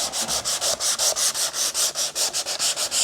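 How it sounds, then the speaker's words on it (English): Steady back-and-forth hand sanding on a wooden waterfall table, working into small cracks and crevices, with rhythmic rasping strokes about five per second, close and even, no talking. "quite a lot of hand sanding to do to get in those little tiny little cracks and crevices"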